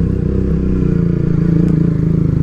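Honda Fan motorcycle riding along, a steady close engine drone with low rumble and faint clatter that holds throughout without breaks.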